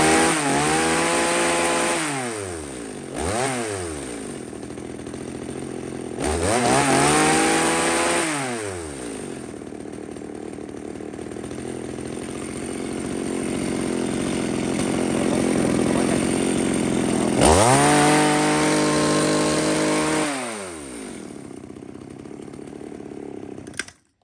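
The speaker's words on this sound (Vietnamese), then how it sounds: "tiếp đến là một con M4 cưa tay cụt các bác nhá. Công suất lớn cho các bác về sử dụng chuyên nghiệp." A used Japanese M4 chainsaw, a high-power professional saw, runs close by with repeated sharp throttle revs rising and falling, separated by stretches of steady idling, with no voices.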